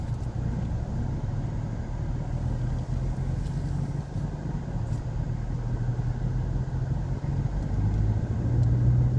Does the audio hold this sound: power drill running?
no